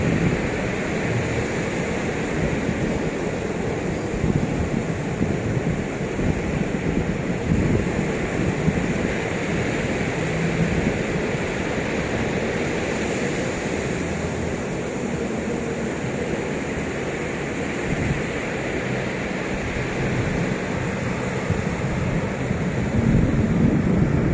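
Sea waves wash steadily onto the shore at Pantai Putih beach in Lhoknga, Aceh Besar, a continuous broad surf roar mixed with wind buffeting the microphone, with no talking.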